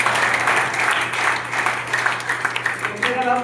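An audience claps at a business motivational seminar, steady and fairly loud, with a low electrical hum underneath and a few louder individual claps toward the end.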